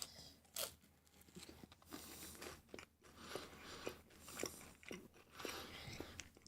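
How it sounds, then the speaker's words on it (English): Close, crunchy munching on a snack, with repeated bites and steady chewing over several seconds at a quiet level, faint game ambience beneath. "covering you with a bit of munching noises."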